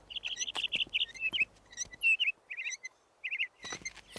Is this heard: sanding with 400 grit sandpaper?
no